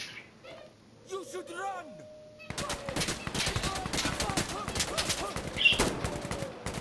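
Gunfire in Insurgency: Sandstorm during a multi-floor indoor mission, coming as a dense run of sharp repeated shots and bursts after a quieter opening with voices; the shooting is loud and busy, mixed with in-game talk.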